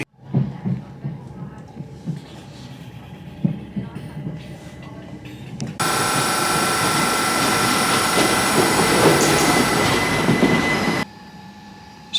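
A Class 377 electric train runs toward a station, with a steady rumble and wheel noise, then a loud broad roar with a faint squeal for several seconds that cuts off abruptly, dropping back to quieter rolling.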